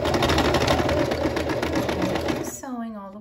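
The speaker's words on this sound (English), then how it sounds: "I'm gonna back stitch" A sewing machine back stitches a seam on an envelope dress, running in a loud, fast, steady mechanical whir up close before stopping abruptly, and a voice speaks at the end.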